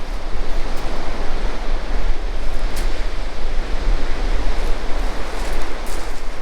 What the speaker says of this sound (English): Very choppy sea though.